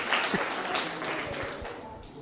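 An audience gives a short burst of clapping for a correct answer at a classroom quiz competition. The applause is moderately faint and brief, and a little speech can be heard behind it.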